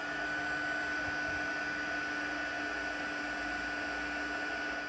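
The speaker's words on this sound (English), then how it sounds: "I am now going to use my heat tool," A craft heat tool blows a steady, even whir with a constant tonal hum while heating embossing powder on a glitter mermaid card's tail; the sound stays at an unbroken level throughout, with no talking.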